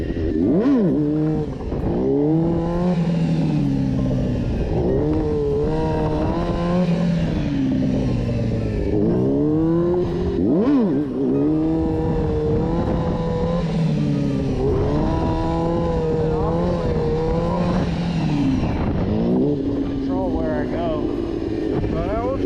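A freshly built motorcycle on a test ride, its engine loud and close, revving up and down repeatedly through a very sensitive throttle, with sweeping rises and drops in pitch.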